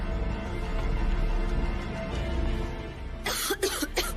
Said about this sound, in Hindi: तुझे भी खांसी आ रही